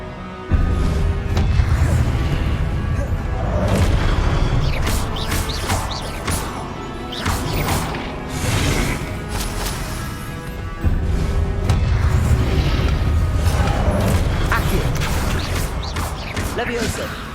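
Repeated explosive spell blasts with crashing booms and whooshes from Confringo casts in Hogwarts Legacy, loud and continuous over about seventeen seconds, mixed with game music and action noise while a man calls out spell names.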